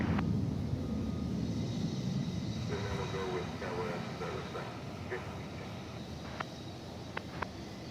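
An American Airlines jet rolls for takeoff on runway 18 left at DFW Airport at night, its engines a steady, distant broadband roar with faint rumbling and a few small clicks nearby.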